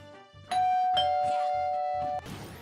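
Donkey Kong's 'Ding Dong' combo sound from Super Smash Bros. 4, a loud sustained bell-like ding-dong chime ringing for nearly two seconds over quieter game sounds.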